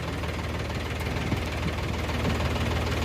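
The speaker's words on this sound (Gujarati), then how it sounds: "અને ટ્રેક્ટર 2 વર્ષ પહેલાં લીધું. ટ્રેક્ટર છે સોનાલિકા." A Sonalika tractor engine idles on a farm during groundnut harvest, a steady low knocking putter with even rhythm, moderately close and continuous, no voices.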